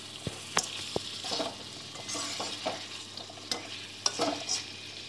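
Fried potatoes being stirred in a pan with spices, a run of scraping stirs and clinks over a soft continuous sizzle, no voices.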